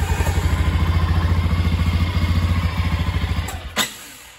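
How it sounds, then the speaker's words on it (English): A Can-Am engine with a fault runs rough at a raised idle, a loud close-up chugging with a steady rapid pulse that falters, then a sharp clack near the end as it dies down. "Let me turn up the idle real quick. It ain't very happy, but it does run."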